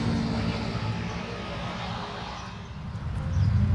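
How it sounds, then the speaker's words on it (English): Steady, loud rumbling roar of heavy highway truck traffic passing nearby a rest stop, swelling toward the end as a big vehicle rolls past, with no voices. "I'm sure you can hear the trucks going by"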